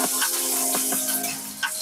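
Green chilli and whole cumin seeds drop into hot mustard oil, giving a loud, steady hiss of frying close by, broken by a few soft clinks and pops.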